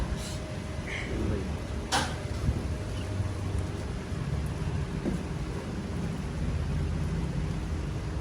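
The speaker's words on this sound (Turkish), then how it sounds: "Yağmur yağıyor." Rain falls outdoors on a street in Mexico, a soft, steady hiss with a few faint clatters and distant noises mixed in, fairly quiet throughout.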